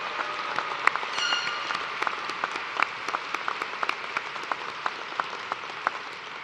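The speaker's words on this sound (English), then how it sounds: "Let's give a round of applause for everyone who has helped make this a special occasion." An audience at a university commencement ceremony claps steadily, a dense patter of many hands with a few sharper claps standing out near the front, continuing without voices.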